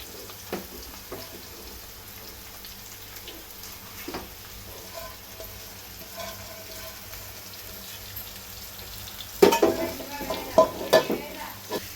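Salted, chilli-coated fish pieces and onions cook in a pan for Andhra fish tamarind curry, giving a quiet steady sizzle with occasional stirring clatters that grow louder near the end.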